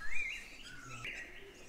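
Rainforest birds give faint, thin chirps against a soft, quiet background, a couple of brief high calls over under two seconds.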